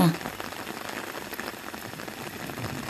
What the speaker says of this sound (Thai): ข้าสวนมาฝนตกพอดีเลย